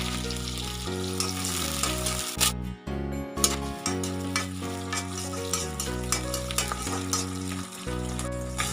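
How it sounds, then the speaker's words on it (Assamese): Onions sizzle steadily after being dropped into hot oil in a pan for an Assamese fish dish, a continuous close frying crackle with occasional stirring scrapes, with music playing throughout. "তেলখিনি গৰম হৈ গৈছে। এতিয়া মই ইয়াত দিছোঁ পিঁয়াজ।"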